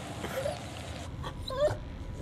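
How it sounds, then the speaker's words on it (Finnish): A frightened dog in a farmhouse in the video game The Devil in Me gives a couple of faint, high whimpers over a low background hum. "Täällä on koira, joka on ihan peloissaan."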